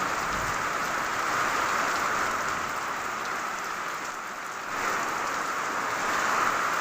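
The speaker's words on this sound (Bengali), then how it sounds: "প্রচণ্ড পরিমাণে বৃষ্টি নেমে গেছে" Heavy rain pouring down outdoors, a dense, continuous hiss of drops drumming on surfaces, loud and unbroken with no voices.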